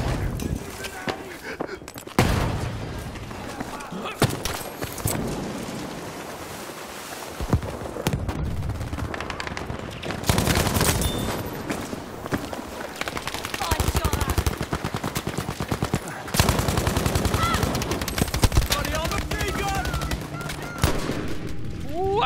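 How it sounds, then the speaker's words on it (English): Machine gun fire in Battlefield V comes in long rapid bursts, loud and close, repeated across the stretch with short gaps, while people talk excitedly over it. "That's a machine gun!"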